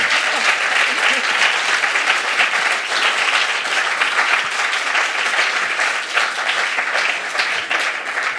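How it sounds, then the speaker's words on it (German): An audience at a science slam in Freiburg gives a sustained, even round of applause, many hands clapping together in a thick continuous roar with no pauses. "Ein Applaus für Jasmin."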